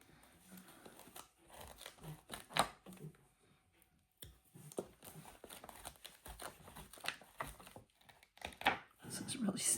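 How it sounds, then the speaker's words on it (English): Dried masking fluid peeled off watercolor paper, making close, quiet crinkling and tearing sounds in irregular bursts with brief pauses. "Get a hold of some of this and peel it off."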